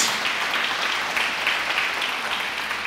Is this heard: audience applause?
yes